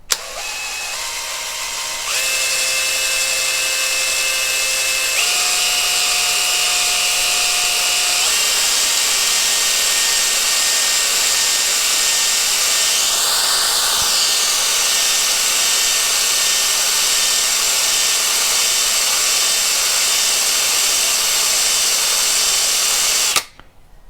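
A drill-driven cylinder hone works inside the cylinder of a Kohler Command 18 engine, giving a loud, steady, high-pitched whir that holds for over twenty seconds with small pitch shifts, then cuts off abruptly.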